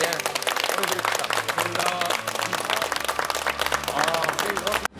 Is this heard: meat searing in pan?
no